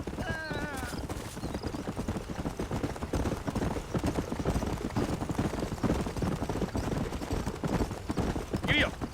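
Horse hooves galloping in Red Dead Redemption, a steady rapid clip-clop running throughout, with a horse whinny near the start and another near the end, under ongoing talk and game ambience.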